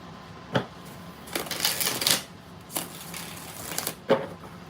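A tarot deck shuffled up close, with separate sharp snaps and a brief riffling stretch, then a couple of crisp taps as the cards are knocked together.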